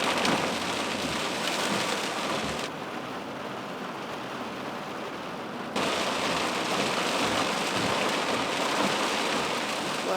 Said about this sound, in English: It's only been raining for a few minutes, and the roads are like almost flooded.